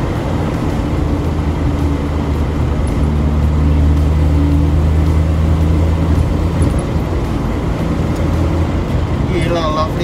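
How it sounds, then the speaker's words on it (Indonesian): A manual five-speed Jeep with a 4000cc fuel-injected engine drives along, its steady low engine drone and road rumble filling the cabin continuously, with no pauses. "kangenin banget naik Jeep, nyupir Jeep"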